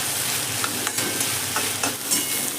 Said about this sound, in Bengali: এবার ঢাকাটা খুলে নিলাম আর ঢাকাটা দিয়ে আবার একবার আমি নেড়ে দেবো।